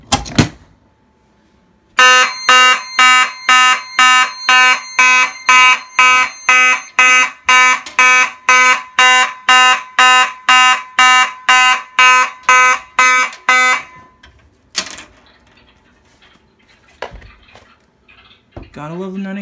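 Fire alarm system set off by pulling an MS6 manual pull station, blaring a loud, rapid series of repeated harsh horn pulses for about twelve seconds before stopping, followed by quiet with a few faint clicks.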